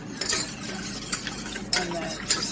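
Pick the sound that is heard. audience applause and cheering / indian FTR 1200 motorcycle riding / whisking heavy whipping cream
whisking heavy whipping cream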